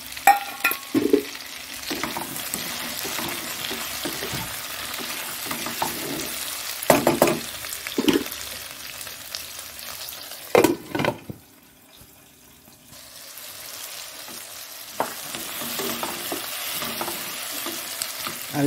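Chopped tomatoes drop into a frying pan with potatoes: loud crackling sizzle and stirring scrapes, close by, then a brief lull before the frying noise resumes.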